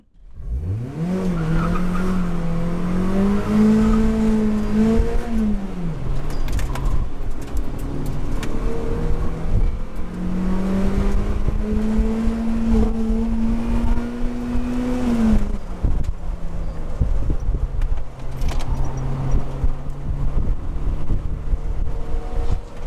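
A 5th-generation Honda Prelude with 240,000 miles launches on a race track, its engine note climbing in pitch through the revs, dropping at a shift, then rising again under heavy wind noise.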